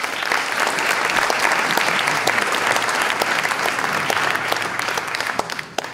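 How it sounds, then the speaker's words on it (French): An audience claps for an author at a literary prize event, in steady, full applause from a crowd that continues at even strength before trailing off at the end. "On peut applaudir l'auteur qui est présent."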